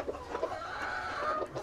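Fighting roosters at a breeding farm cluck and murmur in low, repeated bursts, moderately close, under a steady background hum.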